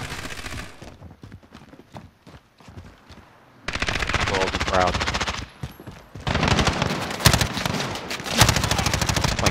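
Gunfire pours in from every direction in Modern Warfare 2019 on Suldal Harbor, with scattered shots early on and then loud, dense bursts of automatic weapon fire in long stretches, all close and intense.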